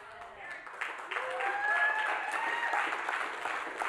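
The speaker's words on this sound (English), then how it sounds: "Clap real loud." Church audience clapping and applauding during a sermon, steady, fairly loud rippling applause that builds over a few seconds, with a voice and some cheering mixed in.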